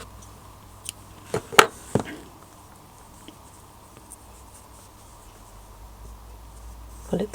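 Scissors trim the yarn at the end of a crochet tie on a baby pixie bonnet: a few quick, close, crisp snips and taps, then near silence.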